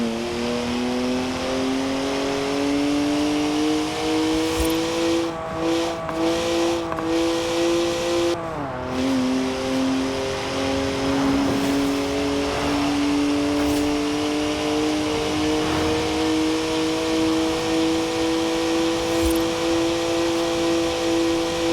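A BMW three-litre straight-six twin-turbo engine of 335 horsepower runs in Forza Horizon 4, a close, steady engine drone holding a constant pitch with a brief dip and recovery midway.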